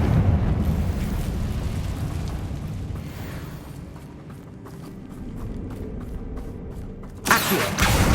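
A Confringo fire spell goes off in Hogwarts Legacy as a loud, rumbling, sustained blast that slowly fades. A sharp fresh burst erupts near the end.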